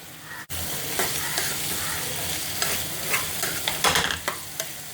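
Around 300 grams of small shallots sautéing in a pan, a dense steady sizzle with a sudden brief drop near the start, then repeated scraping stir strokes growing busier toward the end, close and with no talking.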